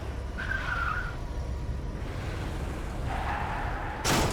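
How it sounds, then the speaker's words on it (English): Car tires screech in Crysis 2 Remastered, a video game, while the car drives very slowly. Two drawn-out squeals stand apart over a steady engine rumble, followed by a short burst of broadband noise at the end. "I love the tire screeching noises when I'm going like a half of a mile an hour."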